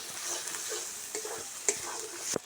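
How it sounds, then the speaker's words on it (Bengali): Ground coriander and cumin spices frying in a pan for a jackfruit and prawn curry, stirred with a utensil: soft continuous sizzle broken by a few light scraping taps, close and fairly quiet. "কিছুক্ষণ মশলাগুলো নেড়ে চেড়ে দিয়েছি"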